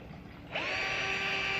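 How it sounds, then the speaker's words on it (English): A power drill spins up abruptly after a brief quiet moment and settles into a steady, high whine, close by, as it starts a hole in a wooden board. "We're going to drill a hole here to get it started"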